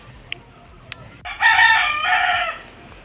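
A rooster gives one loud, close crow lasting about a second, preceded by a couple of faint clicks in a quiet rural setting.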